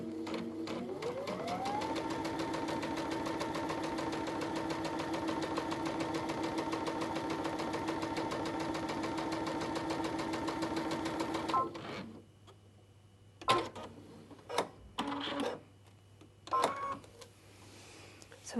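A Brother sewing machine fitted with a dual feed foot runs steadily for about eleven seconds stitching a quarter-inch quilt-as-you-go seam, a fast even whirring hum that stops abruptly, followed by a few brief clicks and handling knocks.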